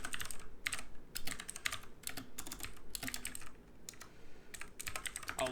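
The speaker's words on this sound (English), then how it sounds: "I'll explain all this after I'm done typing it up" Rapid bursts of keystrokes on a computer keyboard while coding a maze recursion program, clattering in uneven clusters with brief pauses, close and fairly loud with no talking.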